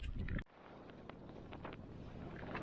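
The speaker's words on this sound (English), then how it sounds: "It's so windy." Strong wind outside a Fjällräven four-season tent in the Sarek wilderness, a loud gust that cuts off abruptly, then a steady low rush with faint flapping.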